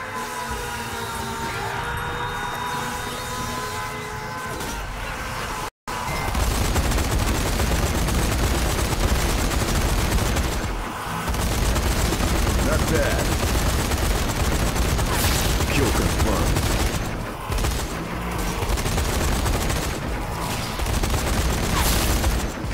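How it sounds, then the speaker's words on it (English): Gun turret in the video game Zombie Army 4 firing in loud, sustained rapid bursts that run almost continuously, with one brief cut and a few short dips in intensity. "Gun turret here."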